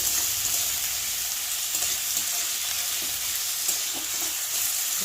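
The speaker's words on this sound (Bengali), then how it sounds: "আলুটা আরও ভালো করে ভেজে নেব।" Potatoes frying in a pan, a close, continuous sizzle with faint scraping stir sounds scattered through it and no voices.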